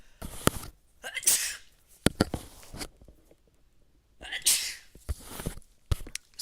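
A person sneezes twice, loud and close, each sneeze a sharp burst, among soft rustling and page-flipping sounds during quiet art journaling.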